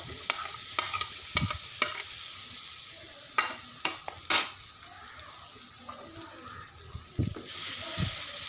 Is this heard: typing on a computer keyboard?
no